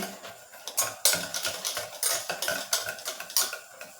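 A spoon works through mango tea cake batter in a bowl, giving steady, rhythmic scraping and clinking strokes close by, with no voices.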